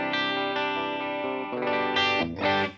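Distorted electric guitar through a Guitar Rig 6 Chicago cabinet sim, one long sustained chord shifting into a few quicker changing chords near the end, loud and close.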